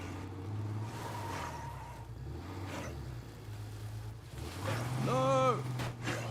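Car engine droning and revving in a video game, a steady low hum that shifts pitch and surges louder near the end, with a player talking over it.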